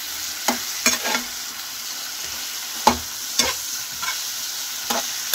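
Chopped potatoes fry in a pan with a steady low sizzle, broken by several sharp scraping stirs of a spoon against the pan at irregular intervals, close and clear with no talk.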